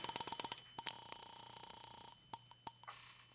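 A telephone is dialed as a 1949 radio drama sound effect: a quick series of faint mechanical clicks and short tones, close, with a low hum underneath and no speech.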